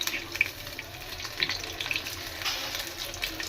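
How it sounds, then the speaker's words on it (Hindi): Balls of mashed potato and bread seasoned with green chili, red chili and salt fry in oil, giving a soft, faint crackling sizzle with small scattered pops. "ये जो कुछ बॉल्स मैंने डाल दी फ्राई होने के लिए"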